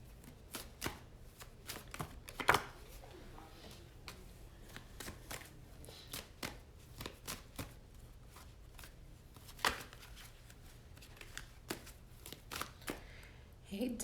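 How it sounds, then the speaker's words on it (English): Tarot cards being shuffled by hand, a quiet, close series of irregular riffling snaps and taps spread across the stretch, with occasional louder bursts. "once I finish shuffling these cards"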